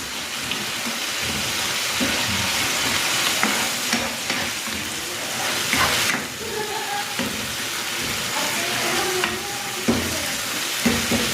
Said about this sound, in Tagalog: Titimplahan ko ito ng patis at ng paminta. At lulutuin ko ito hanggang sa malusaw yung kamatis.